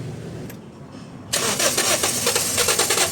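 A Toyota Vios engine, fitted with a new fuel pump, cranks over and catches, starting at about a second and a half after a quiet pause and then running steadily and loudly to the end.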